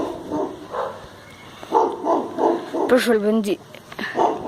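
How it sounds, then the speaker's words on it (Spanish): Neighborhood dogs bark outdoors beside a campfire, a few spaced yelps and barks heard under near continuous talk from people nearby. "del vecindario están ladrando"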